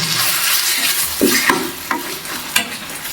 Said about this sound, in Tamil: இஞ்சி பூண்டோட பச்சை வாசனை போகிற வரைக்கும் நல்லாவே வதக்கிக்கலாம்